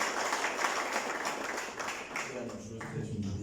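An audience at an annual general meeting in Mauritius applauds ten business candidates: a dense wash of clapping that thins toward the end as a voice begins speaking.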